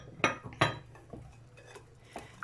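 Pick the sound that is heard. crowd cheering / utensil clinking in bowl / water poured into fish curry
utensil clinking in bowl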